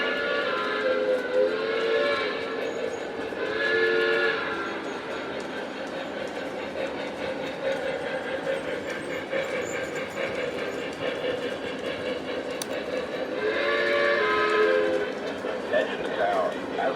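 A model train with a Strasbourg 89 set runs over a newly built mountain module on the upper loop, giving a continuous rolling rumble broken by three loud horn blasts near the start, middle and end.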